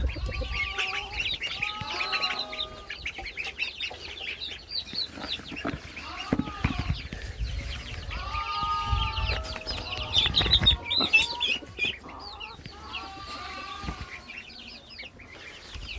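Chickens and chicks cluck and cheep steadily, with occasional louder squawks, under faint rustling and a distant voice.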